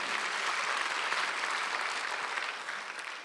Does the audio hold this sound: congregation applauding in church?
yes